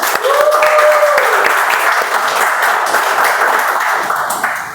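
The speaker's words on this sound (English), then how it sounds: "Clap yourself." A room of guests at a Toastmasters club meeting applauds steadily for nearly five seconds, a dense, close clatter of many hands that holds its level and then eases slightly at the end.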